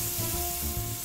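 Onion and garlic frying in olive oil give a steady, close, crackling sizzle throughout a brief moment.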